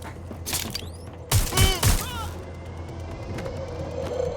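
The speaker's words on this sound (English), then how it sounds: "Grenade drop." Heavy grenade blasts from the Watch Dogs Legion video game, a cluster of three loud booming explosions in quick succession with ringing debris, following earlier gunfire-like bursts, over a steady low hum.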